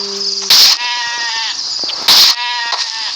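Sheep in the video game Zombie Craft Survivor bleat twice in loud, close, nasal calls with short pauses between them, no talking over them.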